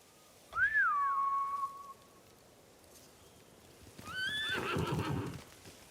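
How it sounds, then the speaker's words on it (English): Samurai horses in the Ghost of Tsushima video game give two clear, loud whinnies a couple of seconds apart, the second one longer and rougher, with hooves clopping faintly between them. "Bastards scared off the horses."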